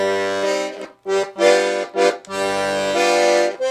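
Bass side of a red-gold Hohner Concerto III piano accordion with 72 bass buttons and two bass registers: a rhythmic pattern of deep bass notes and chords pumping in short bursts with brief gaps, close and unaccompanied by talk.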